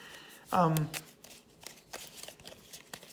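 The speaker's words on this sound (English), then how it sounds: "And then we take this and shuffle." A deck of wargame cards is shuffled by hand in a short riffle burst, followed by soft handling taps and rustles at close range.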